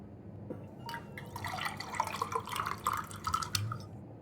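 Water drips and trickles in irregular, fairly close patters within the Factorio game with the Space Exploration and Krastorio 2 mods, building into a busier splashing stretch with no talk over it.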